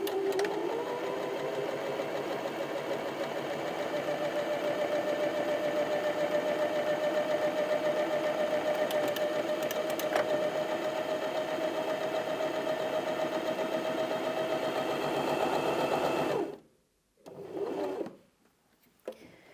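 Janome HD2200 sewing machine stitching a buttonhole at medium speed, a steady close mechanical whir with a constant motor tone running without a break, then stopping abruptly with a short final burst before silence.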